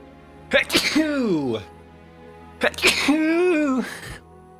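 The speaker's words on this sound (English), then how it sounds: "I gotta sneeze." Two sneezes in a row, each with a sharp wet burst and a falling whine, close and loud with a pause between them.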